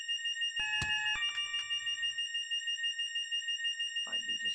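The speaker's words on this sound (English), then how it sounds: "They keep beeping at me." Warning alarm in the Train Simulator 2018 game, a steady, moderately loud electronic beeping tone that repeats evenly, with a brief metallic clank early on and a short sound near the end.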